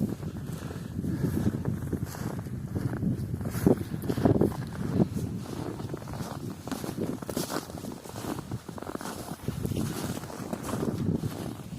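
Strong wind gusts across a frozen winter field of frost-damaged wheat and barley, a loud, continuous rumbling roar with buffeting bursts against the microphone.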